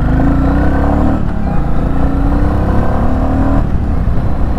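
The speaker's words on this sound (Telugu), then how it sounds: "ఒకసారి ఎగ్జాస్ట్ సౌండ్ వినండి. ఎగ్జాస్ట్ సౌండ్ మామూలుగా లేదు. ఇప్పుడు రైడ్ చేద్దాం. ఫస్ట్ గేర్ వేసాను." Royal Enfield Classic 350 motorcycle pulling away in first gear, its exhaust note a steady loud thump with a rising rev tone that dips and climbs again, close up and without speech.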